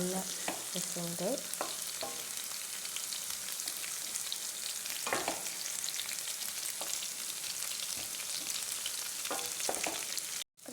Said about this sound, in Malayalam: ഇതൊക്കെ ഒന്ന് നന്നായിട്ടൊന്ന് ഫ്രൈ ആയി വരുന്നുണ്ട്